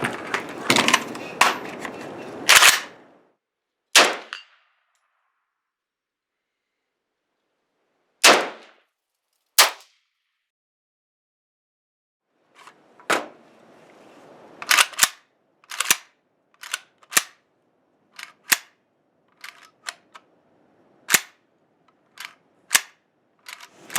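A Zastava PAP M90np rifle fires shots from a 21-round magazine, some in quick bursts and some single, loud and sharp with silent gaps between them and metallic handling noises in places.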